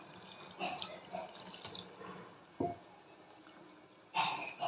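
Water, including leftover tomato-rinsing water, is poured into a tomato curry for a fish dish in a pan, with a few short splashing pours and brief liquid gurgles, fairly quiet and close.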